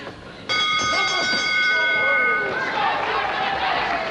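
A boxing ring bell ends the round in a professional fight, striking loud metallic clangs that ring out and fade over crowd noise while a commentator talks.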